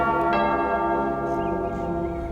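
A church bell rings with a strong struck tone and long ringing hum that sustains and slowly decays, loud and close, with no voices.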